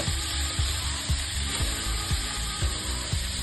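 Peas sizzling in a hot wok for mixed Maggi noodles, a steady frying hiss with soft rhythmic knocks of stirring every half second, close up.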